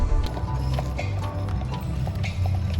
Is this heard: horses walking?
yes